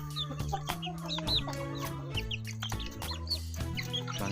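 Young chicks cluck and peep in quick, overlapping calls, close and fairly loud, over a steady tonal background with no talking.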